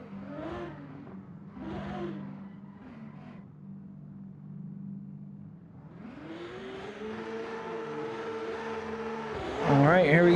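A drift car's engine revs in Assetto Corsa during a Formula Drift Soldier Field competition, a rising droning pitch that climbs and holds before a louder surge. A commentator's voice is heard early on.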